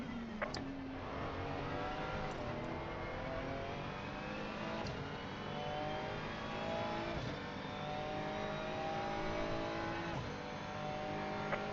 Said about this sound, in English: Slow car ahead.